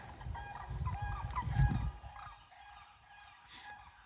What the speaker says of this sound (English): What you hear there is sandhill cranes